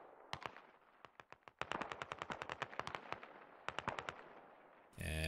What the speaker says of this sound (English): we've got constant fire coming from down inside the gully up to the ridge line